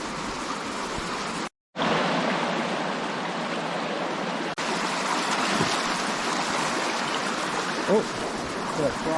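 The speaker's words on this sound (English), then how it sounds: "A really nice little river here" A small forest river rushes steadily and close at hand, a continuous broadband wash of flowing water with one brief cut in the middle and faint sounds now and then.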